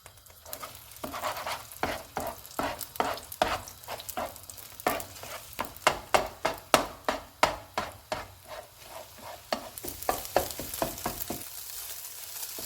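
Eggs frying in hot oil crackle steadily under a quick run of spatula taps and scrapes against the pan, close and rhythmic, with the clatter speeding up in the middle before easing back.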